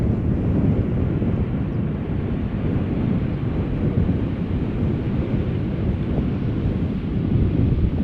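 A departing jet, KLM flight 1179, climbing out to the north from Schiphol Airport, rumbling as a loud, steady broadband roar buffeted by wind noise, with no voices.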